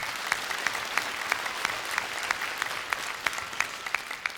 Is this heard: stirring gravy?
no